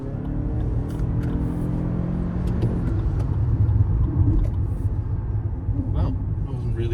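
A Lexus RX in sport mode accelerates hard on a bending road, its engine and road rumble a steady, loud low drone that swells slightly mid-way, with occasional faint clicks above it.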